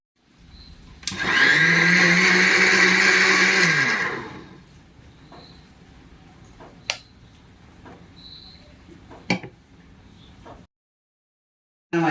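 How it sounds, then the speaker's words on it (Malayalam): A grinder grinds soaked urad dal, a loud motor whirr that rises and then holds steady for about three seconds before winding down, followed by quieter clicks and knocks. "ഇത് നന്നായി അരച്ചെടുത്തതിന് ശേഷം അടുത്ത പരിപാടികളിലേക്ക് പോകാം"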